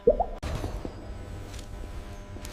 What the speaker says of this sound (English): replaced by a dead, cold, digital hum and dripping condensation